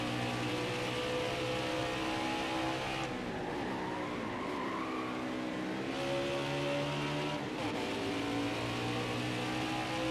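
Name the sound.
race car engine in NASCAR Heat 5 video game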